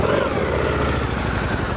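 A 2014 Harley-Davidson V-Rod Muscle motorcycle engine fires up and runs with a loud, steady, close rumble, with no talking over it.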